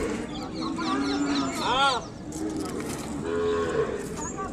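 An Ongole calf moos near at hand in a rising, wavering bawl midway, with fowl clucking and farmyard noise around it.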